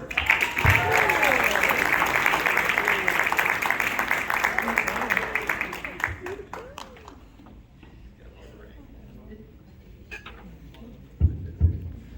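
A school audience applauds a newly announced Safety Patrol member, a loud, dense burst of clapping with cheers that fades after about six seconds into scattered claps and murmur, then a few sharp knocks.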